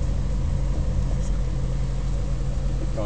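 A Range Rover engine running steadily while driving off-road, a continuous low rumble with little change in pitch, fairly loud and close throughout.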